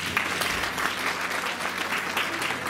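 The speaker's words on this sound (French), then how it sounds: "Est-ce que vous pouvez les applaudir, s'il vous plaît?" An audience applauding at an evening event, dense continuous clapping from many hands that stays steady and full throughout, loud and fairly close.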